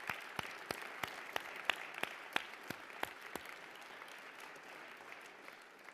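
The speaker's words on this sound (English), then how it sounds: "let us applaud everyone who's been a part of that" Applause from the audience at a New York City swearing-in ceremony for family and criminal court judges, with sparse individual claps standing out over a soft, steady patter that slowly fades.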